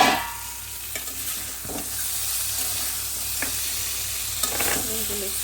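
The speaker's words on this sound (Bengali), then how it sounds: "বেগুনগুলো একটু কড়া করে ভাজবো," Eggplant pieces fry in hot oil with a continuous crackling sizzle, broken by a few scrapes and knocks of a spatula stirring the pan, close and unaccompanied by talk.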